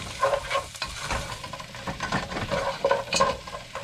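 Oil sizzles and crackles steadily in a pot, with occasional stirring scrapes, close by and with no talking.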